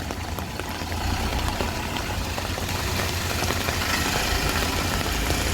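A car's engine idles with a steady low rumble beneath the constant hiss of falling rain, unbroken throughout with no voices.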